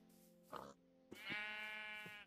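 Sheep in the video game Minecraft bleat in two short, wavering calls, the second longer and stronger, heard alone at moderate level.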